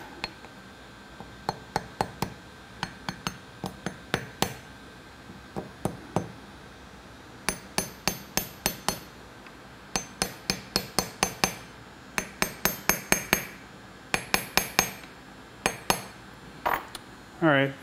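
A hammer taps an ejector pin into a metal mold, sharp ringing clinks arriving in quick bursts of several blows separated by short pauses, close and bright.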